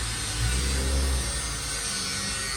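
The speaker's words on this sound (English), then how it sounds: "We got another Miata pulling up." A Mazda Miata pulls up nearby, its engine giving a steady low hum and mild rev that fades slightly as it slows.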